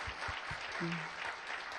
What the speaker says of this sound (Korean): 격려의 박수 한번 보내드리도록 하겠습니다